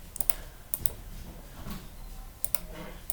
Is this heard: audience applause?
no